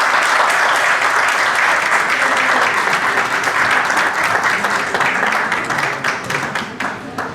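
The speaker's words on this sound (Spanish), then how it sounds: "Un fuerte aplauso" Loud, sustained applause from an audience after a spine surgery talk, many hands clapping densely and evenly before thinning out toward the end.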